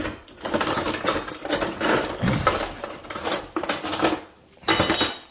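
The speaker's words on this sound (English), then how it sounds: "let's go ahead and get a slotted spoon out of here" Metal kitchen utensils clatter and clink as a slotted spoon is pulled out from among them, a busy run of close rattling scrapes with brief pauses.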